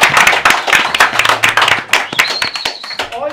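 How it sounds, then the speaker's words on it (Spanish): Studio audience clapping and cheering for talent show winners in a packed radio booth, a dense burst of hands with voices mixed in, ending on a rising whistle-like tone. "Fuerte el aplauso para ellos"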